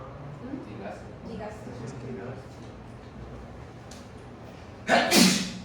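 One loud, abrupt sneeze bursts out near the end, after quiet indoor talk in a classroom lecture.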